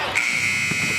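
Basketball horn sounding at the end of a period during an NBA game between the Washington Wizards and San Antonio Spurs, a sustained electronic buzz held for most of the second over steady arena noise.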